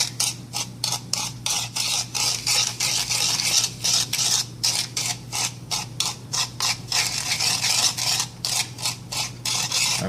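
Dry pumpkin pie ingredients mixed with a whisk in a bamboo bowl, giving steady rhythmic scraping and tapping strokes, close and continuous, with no talking.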